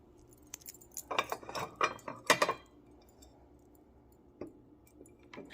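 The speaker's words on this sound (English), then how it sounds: "We're going to go ahead and place Mama May dishes in my cabinet since her departing" Ceramic dishes from a china set with small plates and a teapot clink and clatter as they are set into a cabinet: a busy burst of knocks, then quiet with a couple of lone taps.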